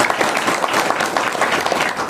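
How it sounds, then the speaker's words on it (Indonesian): Audience applause at a business seminar, a dense steady wash of many hands clapping, fairly loud and continuous without a break. "Tepuk tangan untuk kita semua."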